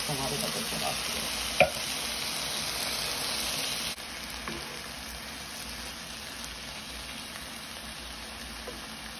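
Pineapple frying in a pan as a home dinner cooks, a steady broadband sizzle with a few sharp clicks of stirring, close and continuous, slightly softer after a few seconds.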